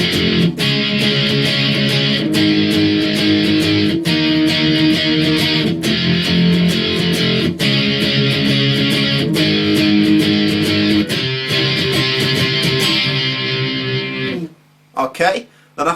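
Distorted electric guitar strumming the chorus chords of a song, loud, dense and continuous with rhythmic accented hits, then stopping near the end with a few scattered noises.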